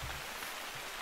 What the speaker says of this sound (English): the rain and any kind of ambient noise helps mask your kind of presence and the noise that you're creating